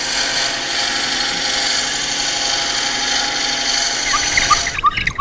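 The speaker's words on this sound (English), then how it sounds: "we'll drill this all the way through" A power drill bores a hole straight through a workpiece, whining steadily and loudly at close range before winding down near the end, followed by a few faint clicks and handling knocks.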